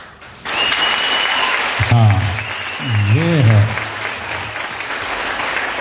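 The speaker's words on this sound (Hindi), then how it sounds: "इनके लिए ताली बजाएं" Applause from a church audience fills the hall, steady and loud throughout, while someone speaks over it briefly.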